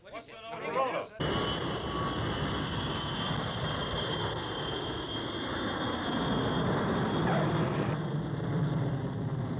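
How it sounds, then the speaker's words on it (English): A jet aircraft roars past in a steady, loud drone that swells and holds for several seconds after a short burst of noise at the start, with no voices over it. "It's on its way by jet."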